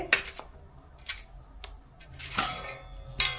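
A few metallic clanks and rattles as a lid is set onto a pot, each hit ringing briefly, close by with no speech.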